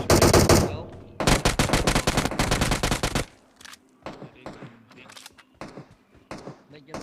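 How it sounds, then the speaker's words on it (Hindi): Rapid automatic gunfire from the mobile battle royale game PUBG Mobile, a loud dense burst for about three seconds, followed by scattered quieter single shots and short volleys further off. "और इतने मेरे ऊपर शॉट्स आते हैं"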